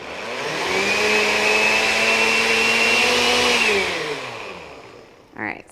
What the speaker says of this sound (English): And then you just put the lid on your blender.